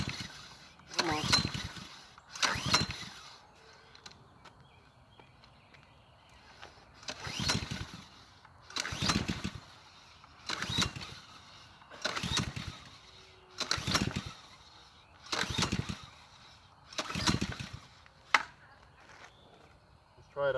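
Ryobi pressure washer with a Honda GCV190 engine, fuel left sitting in it, being pull-started: about eight rough cranking bursts in a steady rhythm without catching, up close, with a few spoken words between pulls.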